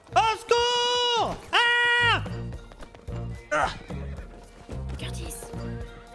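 A horse in the video game Red Dead Redemption 2 lets out two loud, close whinnies in quick succession, followed by hoof clip-clops and game music, with a voice talking over the later part.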